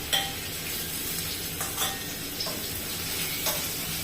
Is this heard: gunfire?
no